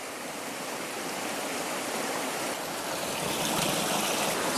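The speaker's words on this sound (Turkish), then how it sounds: "İçeceğimiz su aynı böyle olmalı. Sürekli akmalı." Creek water in a wooded trout stream flows steadily and fairly close, a continuous broadband rush and trickle with no breaks and no voices.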